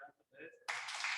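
Following a short stretch of speech, an audience bursts into sustained applause for three startup presenters at a tech meetup, a dense, even clapping that continues to the end.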